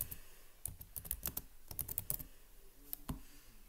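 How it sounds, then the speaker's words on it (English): Quick bursts of close, crisp keystrokes on a computer keyboard as a channel name is typed, a short pause, then a final few clicks. "Just type in your channel name."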